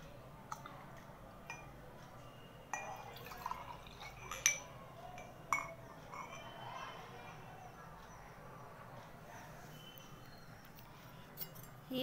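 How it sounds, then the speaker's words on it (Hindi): Water in two glasses is stirred and mixed, giving light clinks and soft liquid sloshes at irregular intervals over a quiet background, with someone talking at times. "अब ये दोनों पानी को हम मिक्स कर देते हैं।"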